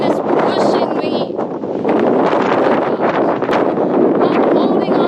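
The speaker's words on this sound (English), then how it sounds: "Whew, it's so windy." Strong wind roars and buffets the microphone continuously on an exposed hike at White Pocket in Vermilion Cliffs National Monument, Arizona, loud and gusty throughout with a person talking underneath.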